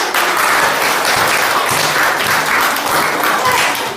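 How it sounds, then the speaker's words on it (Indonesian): Classroom audience applauding after a group presentation, a dense, sustained round of clapping from many hands that holds steady throughout. "Kasih tepuk tangan"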